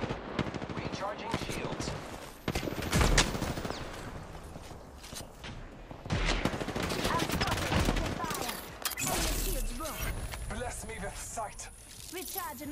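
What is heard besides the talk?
enemy gunfire in Apex Legends video game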